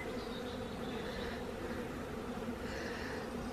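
Honeybee swarm on a backyard lawn buzzing steadily around a box baited with swarm lure, a dense continuous hum close by that holds even through the whole stretch.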